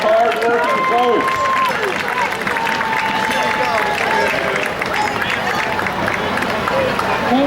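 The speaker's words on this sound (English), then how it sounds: "How about a big round of applause for these hard-working folks?" An outdoor crowd at the Livermore Rodeo Parade claps and cheers for the street-sweeping crew, a steady wash of applause mixed with crowd noise, shouts and whistles, and talk audible over it.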